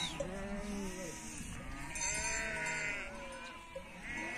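Sheep bleating together in a village flock at milking time on a hot day, several wavering calls overlapping continuously at close to medium range, with goat-like and cattle-like tones mixed into the steady chorus.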